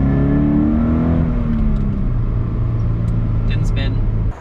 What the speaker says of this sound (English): Second gear pull in the rain.